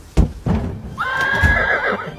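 A horse lets out a loud, close whinny that rises into a sustained shrill neigh lasting about a second, preceded by two sharp thumps, with no talking over it.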